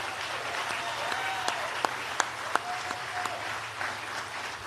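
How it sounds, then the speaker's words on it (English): At the Cherokee Nation's 2024 State of the Nation event, an audience applauds the Cherokee Nation employees with a steady wash of clapping. A few sharp, close claps stand out above it, over a low room hum. "Let's give our employees a round of applause."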